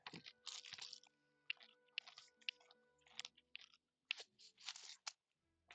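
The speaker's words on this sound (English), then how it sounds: "I'm going to chew on something a little bit." Close, crisp crunching from someone chewing something crunchy, with irregular bursts of bites and grinding separated by short quiet gaps.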